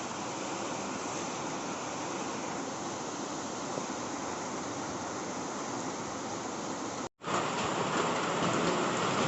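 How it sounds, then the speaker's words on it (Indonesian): Heavy rain pours steadily at night in a Borneo rainforest along the equator, a dense, even hiss that cuts out for an instant near the end before resuming. "Ini kondisi hujan."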